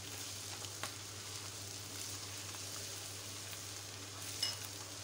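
Chicken pieces, mushrooms and garlic fry in a pan with a steady hiss and sizzle, broken by a couple of soft scrapes as the pan is stirred.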